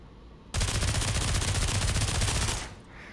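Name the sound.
SMG firing a full magazine in the video game Pavlov VR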